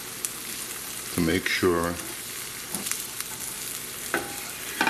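Spatula scraping the bottom of a non-stick pan holding a sausage omelet of beaten small eggs, soft scraping and faint sizzle in the background as someone talks briefly over it.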